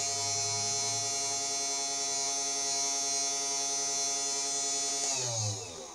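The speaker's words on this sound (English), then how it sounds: "we can turn on the spindle motor if I can remember which button" A CNC 3018 Pro desktop router's spindle motor runs steadily and loudly, a constant high whine with stacked motor harmonics, briefly shifting in pitch near the end as it spins down or changes speed.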